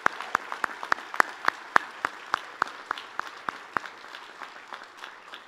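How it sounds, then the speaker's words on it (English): Crowd applause at a 2023 Oregon Tech commencement ceremony: a steady patter of many hands clapping, with sharp individual claps standing out, fading slightly toward the end, heard at moderate distance. "please join me in a round of applause to thank Sam Elliott for his visionary leadership"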